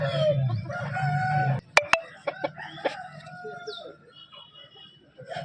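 Fighting roosters at a Sunday cock market in Vijayawada crow loudly and nearby, followed by sharp clucks and pecking knocks, with faint crowd murmur and other birds in the background.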